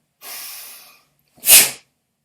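Two breaths in a quiet space during a karate gedan barai exercise: a long, gentle airy exhale, a short pause, then a sharper, forceful puff of breath close to the mic.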